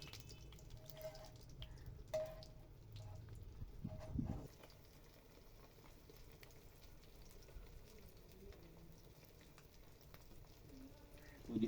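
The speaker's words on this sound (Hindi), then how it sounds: "तो तवे पे डालेंगे हम फिश। बिस्मिल्लाहिर्रहमानिर्रहीम। तो माशाल्लाह ये अच्छी तरह से फ्राई होने देंगे।" A whole fish sizzling in ghee on a flat tawa, a soft, quiet crackle with a few louder spatters and clatters early on, then settling into a faint, steady fry.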